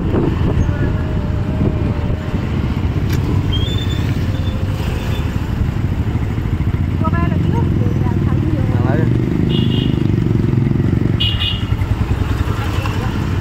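A motorcycle engine drones steadily up close while riding along a crowded road toward the Maha Mrityunjay temple in Nagaon on Shivaratri night. The steady roar continues throughout, with people's voices heard over it.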